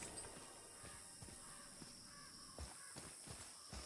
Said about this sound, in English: Odin's Raven spying on me.